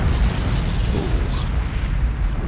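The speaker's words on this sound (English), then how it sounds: "that was a big explosion" A heavy, sustained rumbling boom rolls on without letup as a torpedo detonates against an oil tanker in the submarine game Cold Waters. It is loud, deep and dense.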